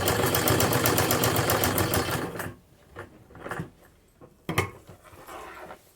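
A sewing machine stitches a wavy decorative pattern in rapid, steady bursts for over two seconds, then gives a few short separate runs of stitching between quiet pauses.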